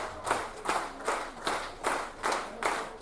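A concert crowd at a show claps in unison, producing a steady rhythmic series of sharp, bright hand-clap bursts about two per second, moderately near with no talking.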